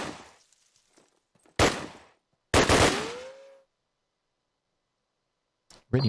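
Gunfire in Call of Duty during a competitive match: two loud, sharp bursts of shots a second apart with a brief whizzing tail after the second, then quiet, and another burst at the very end.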